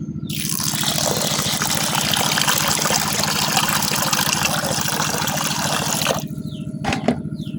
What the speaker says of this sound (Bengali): এখন দিয়ে দেন পরিমাণ মতো পানি।